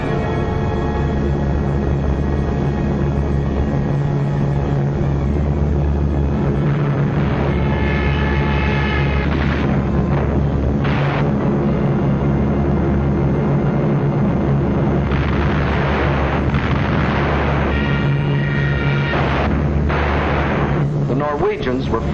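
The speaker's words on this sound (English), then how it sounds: "So the Germans brought up their bombers." German bombers attack during the invasion of Norway, with a heavy drone of aircraft engines and a continuous rumble of bursts and blasts, all loud and dense, in an old wartime documentary soundtrack.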